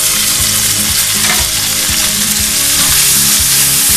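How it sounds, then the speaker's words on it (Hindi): Peas fry with crushed red chilies in hot oil, a loud, steady sizzle with repeated stirring scrapes and clinks throughout. "इसके साथ मैं मटर शामिल करूँगी जो मेरे पास 2 कप मटर है। इसमें फ्राई करूँगी"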